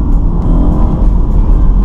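BMW Z4 with an 8-speed ZF automatic gearbox accelerating hard on a country road, a loud, close, continuous deep engine roar and rumble heard from inside the car, with no talking.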